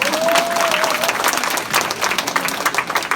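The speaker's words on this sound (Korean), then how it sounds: "박수 한번 부탁드리겠습니다." An audience applauds at a business seminar, a dense burst of clapping from a crowd filling the room, with a brief voice at the start.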